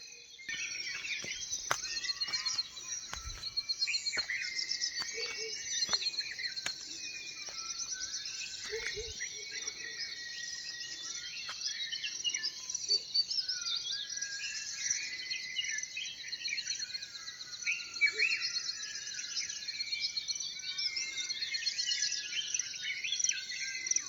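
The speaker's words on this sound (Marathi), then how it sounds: "मधुर असा आवाज ह्या पक्ष्यांचा ऐकायला भेटतो" Birds chirp and call outdoors in the early morning in a village during the rainy season, over a constant high-pitched insect drone, moderately faint and continuous throughout.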